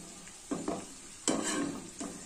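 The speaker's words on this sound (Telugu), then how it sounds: "మీడియంలో పెట్టుకుంటే లోపటి నుంచి మంచిగా కాలుతుంది పల్లి." Masala peanuts roasting in a pan over medium heat, with a few short scraping stirs and a soft sizzle between them, close up and fairly quiet.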